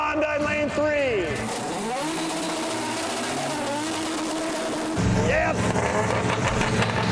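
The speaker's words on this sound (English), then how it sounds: "Here comes the Honda." A Honda import drag racing car launches and revs hard at a dragway, its engine climbing through rising gear sweeps, loud and close, with a second surge of revving near the end and brief talk over it.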